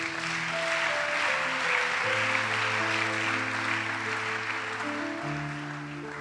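A church congregation applauding, a broad steady wash of many hands clapping at moderate loudness for several seconds, with sustained organ or keyboard chords underneath.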